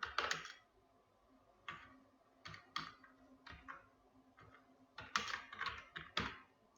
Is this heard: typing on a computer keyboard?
yes